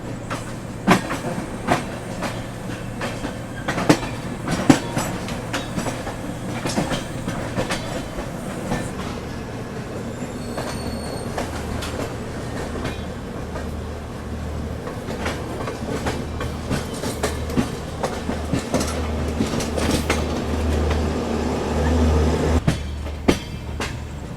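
A Kashi Vishwanath Express from Delhi to Lucknow runs fast, a continuous loud rumble and rattle with frequent sharp track clicks throughout and no voices.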